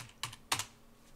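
Two quick bursts of computer keyboard typing, close and crisp, as a command is entered into Betaflight's CLI, with a short pause between the keystroke clusters in an otherwise quiet room.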